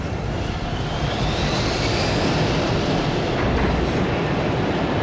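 A jet airliner touching down with reverse thrusters engaged, in an action-film landing scene: a loud, continuous broadband roar of engines and rushing air that holds steady throughout.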